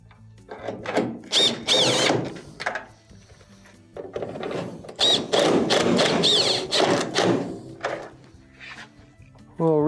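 Power drill driving 2 1/4-inch screws back into a GE dryer, close whirring bursts in short runs with brief gaps between them.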